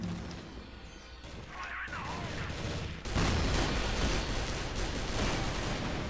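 M16 gunfire in the CrossFire shooter game on a fantasy map, a sharp loud blast after a quieter stretch of in-game noise, followed by dense crackling that stays loud to the end.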